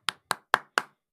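Four sharp hand claps in an even rhythm, close and crisp, each decaying quickly into silence, with no talking.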